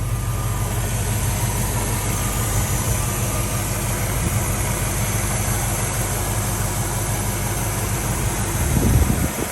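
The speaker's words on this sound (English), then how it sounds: "Nice set of exhaust, hooked up to those headers." A 1967 Ford Mustang engine idles steadily through headers and exhaust with a deep, rumbling note, constant and fairly loud throughout, swelling slightly near the end.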